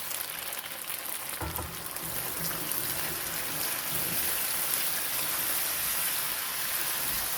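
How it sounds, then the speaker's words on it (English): Beef broth pours into a pan with a steady, close liquid rush and splash lasting several seconds, a brief clink partway through. "I'm going to put some of the broth in here."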